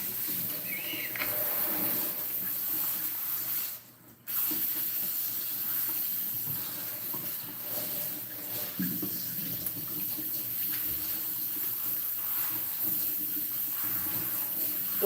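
Water runs steadily from a sink sprayer over hair being wetted for a shampoo, a continuous close splashing hiss with a brief interruption partway through.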